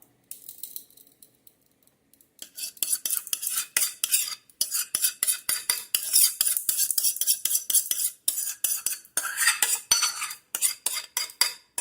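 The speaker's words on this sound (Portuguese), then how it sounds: "misturo a massa do pudim aqui" A utensil stirs and scrapes briskly around a bowl of gluten-free, lactose-free pudding batter, with a quick run of close clicking strokes after a brief quiet start.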